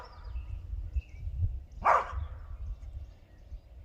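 A dog in an outdoor garden gives a single sharp bark midway through, set over a low rumbling background with faint birdsong around it.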